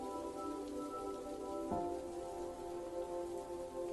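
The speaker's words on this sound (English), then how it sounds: "a heavy rain was beating against her bedroom window" Heavy rain beats steadily against a bedroom window, a dense continuous patter with a brief louder gust or splash near the middle, alone without talk.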